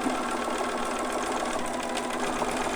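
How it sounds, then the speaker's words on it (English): Sewing machine stitching fabric for a newborn romper, a machine that is acting up and due for service; a steady, continuous mechanical whir at even loudness throughout, with no talking. "sewing machine needs to be serviced"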